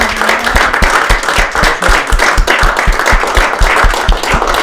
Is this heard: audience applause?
yes